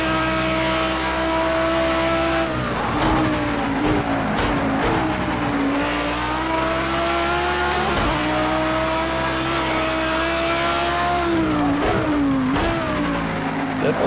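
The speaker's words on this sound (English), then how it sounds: "get back in the throttle hard" Race car engine in Project CARS 2 roars at full throttle, revving up through the gears with brief dips at shifts, loud and sustained with faint tire squeal.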